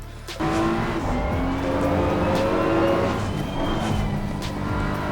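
BMW race car in Assetto Corsa Competizione on the Nürburgring, engine howling at high revs through the gears, with tire squeal and steady loud track noise throughout.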